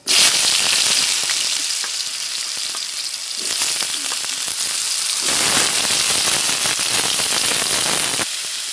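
Ridge gourd pieces hit hot oil seasoned with panch phoron and bay leaf, setting off a loud, continuous sizzle with small crackles that eases briefly and then surges again when stirred, with no talking.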